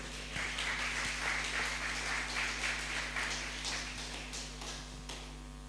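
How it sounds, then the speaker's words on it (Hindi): A church congregation claps to welcome a pastor to the front during a Thursday worship service, a steady wash of fairly faint applause that holds for several seconds over a low electrical hum before tapering off. "हम तालियों के साथ उनका स्वागत करेंगे।"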